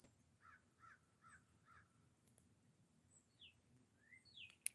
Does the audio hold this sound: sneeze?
no